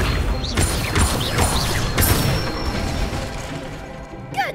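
An Accio summoning spell in Hogwarts Legacy, dense mechanical clattering and grinding with whooshing, creaking and rattling movement, loud and continuous over several seconds with faint chirping whistles over the top.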